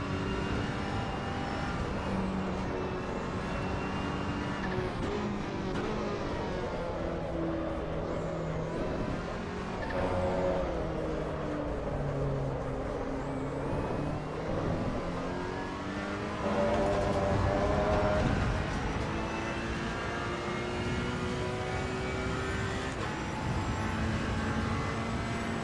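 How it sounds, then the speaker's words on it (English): Ferrari 488 GT2 race car in a racing video game, engine droning steadily with shifting pitch as it revs and changes gears, continuous and fairly loud throughout with no talk. "We're in the Ferrari GT2 right now."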